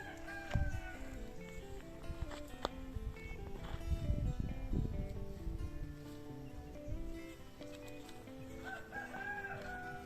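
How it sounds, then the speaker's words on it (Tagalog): Free-roaming chickens on a rural Philippine farm with an ampalaya planting, clucking and crowing at moderate distance, with several rising crows and scattered clucks over a soft outdoor background. "mga manok na gala oh"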